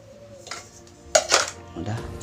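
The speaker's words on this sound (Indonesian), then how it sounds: "Nah, udah kita masukkan lagi tekonya." A metal camping cookware set, a DS 308 nesting kit, clanks as its kettle is nested back inside the pots, giving a few sharp metallic knocks and rattles close by.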